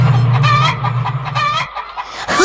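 Caged chickens cluck in close, busy bursts, several birds calling over one another loudly and without pause.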